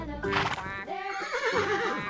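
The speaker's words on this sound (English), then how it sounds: "horse" A horse gives a single clear neigh, a rising then wavering whinny lasting about two seconds, close and alone.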